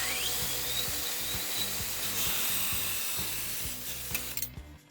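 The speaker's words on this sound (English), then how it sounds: "I'm going to go ahead and cut that off with my saw." A hand saw cuts through a length of steel strut in steady, rhythmic back-and-forth strokes, close and fairly quiet, with no talking, ending abruptly.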